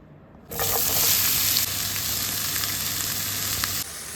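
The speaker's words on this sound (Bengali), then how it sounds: "এখানে পেঁয়াজ কাঁচামরিচ কুচিয়ে রেখেছি মাছ ভাজির সঙ্গে এটা ফ্রাই করব" Chopped onion and green chilies hit hot oil with a sudden loud, steady sizzle that holds for about three seconds before easing slightly, with no talking.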